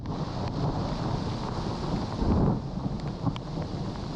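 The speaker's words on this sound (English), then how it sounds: "the sound of the thunder" Thunder rumbles through a lightning storm over a forest, a low, continuous roll that swells briefly near the middle, with wind buffeting the microphone and no talking.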